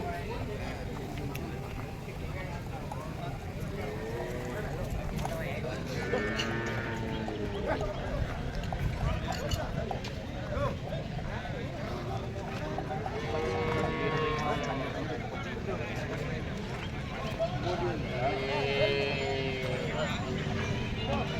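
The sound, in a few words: livestock at a cattle market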